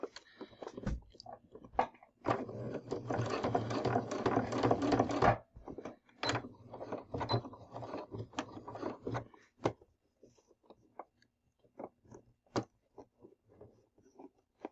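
A sewing machine stitches quilt binding in a dense burst of rapid mechanical ticking, followed by shorter stop-start runs and scattered clicks, close and fairly quiet.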